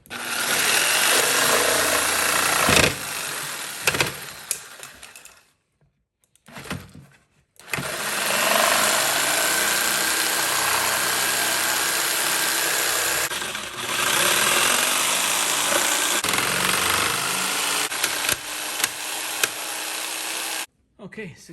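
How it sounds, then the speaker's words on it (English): A jigsaw slowly cuts along a marked line inside a Tesla Model S during a rear-facing third-row seat retrofit, its loud buzzing running in long stretches broken by short pauses and stops. "I'm gonna use my jigsaw to see if I can just slowly cut along the line, transition all the way around."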